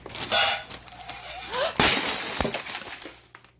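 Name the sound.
plate falling and breaking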